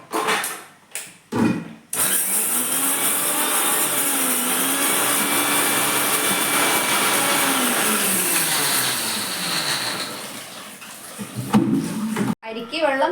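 A mixer grinder whirs as it powders sugar in a home kitchen, a loud steady motor drone running about nine seconds and then slowing to a stop, with a person talking briefly before and after.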